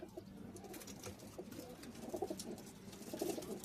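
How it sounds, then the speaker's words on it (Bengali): Pigeons cooing softly in an enclosed breeding room, several birds with low, repeated coos and faint rustling in the background. "এটা একটা ব্রিডিং রুম, এখানে সব কবুতর একসাথে থাকে,"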